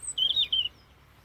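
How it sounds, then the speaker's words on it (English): A bird in a cold Scottish garden gives a short, bright, high chirping phrase, fairly close and clear, then fades into quiet outdoor background. "I get distracted by the birds."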